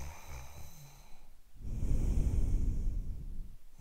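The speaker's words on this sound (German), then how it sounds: "Opa schnarcht einfach ab und zu." An old man snores in a Playmobil family scene, a soft nasal snort on the in-breath followed by a long, rough breathy rumble, close and quiet with no talking.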